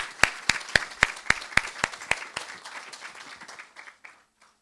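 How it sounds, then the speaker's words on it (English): A round of applause from an audience for panel guests at an academic event, starting with a few sharp, distinct claps that thicken into steady clapping before thinning out and fading. "Let's give all of our guests a round of applause."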